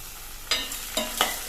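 Chopped eggplant with rock salt stir-fried in a pan for eggplant thuvayal, with three quick, close scraping stirs rising over a low background sizzle.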